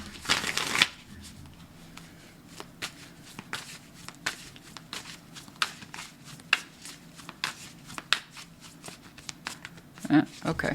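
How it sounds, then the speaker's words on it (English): Tarot cards shuffled by hand during a reading, a steady run of quick papery riffles and flicks with a louder burst at the start and near the end, while a person talks throughout. "Come along now. Shuffle up,"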